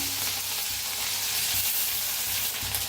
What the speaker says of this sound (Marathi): आता जिरं चांगलं तापलं या त्याच्यात टाकूया लसूण आणि हिरवी मिरची